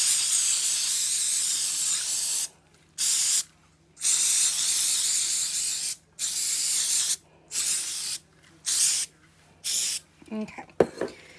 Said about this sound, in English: I actually spray a little bit of the black paper I'm going to put it on because that glue to glue helps bind it